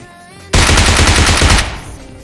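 Loud, rapid automatic gunfire in an online shooter game, one sustained burst of about a second from a close weapon that cuts off into a fading echo.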